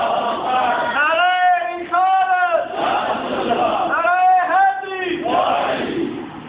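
A large crowd chants a slogan in unison at a religious gathering. Loud, continuous massed voices rise and fall in repeated chanted phrases with sustained harmonic tones throughout.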